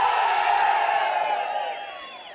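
A crowd at an ADMK election campaign rally for Edappadi Palaniswami in Ambur cheers and whoops loudly in a sustained roar of many voices, fading slightly toward the end.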